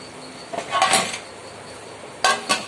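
A lid is set onto a biryani cooking pot on a low flame, producing a couple of short metallic clinks and clatters close by, separated by a quiet pause, with no talking.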